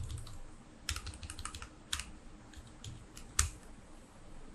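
Keys clatter on a computer keyboard in short, quick bursts of taps, close and fairly quiet, with brief pauses and one sharper keystroke near the end.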